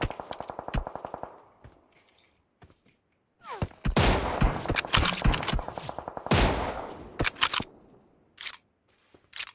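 Sharp sniper rifle shots in PUBG Mobile crack out in bursts, some single and some in quick clusters, loud and close, separated by brief quiet stretches.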